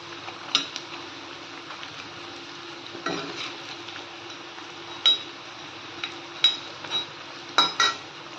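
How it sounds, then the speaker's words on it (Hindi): Arbi (colocasia) leaf rolls frying in a pan, a soft steady sizzle broken by a few sharp clinks and scrapes of a utensil being turned. "सभी हमारे पत्ते इस तरह से फ्राई हो गए हैं"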